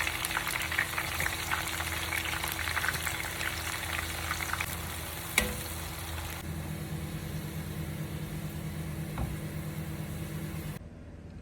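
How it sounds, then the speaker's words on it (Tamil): Brinjal and onions fry in hot oil, a steady close crackling sizzle that softens partway through, with one sharp knock in the middle. "ரொம்ப அருமையாக இந்த கத்திரிக்காயும் வெங்காயமும் பொரிஞ்சு வந்திருக்கு"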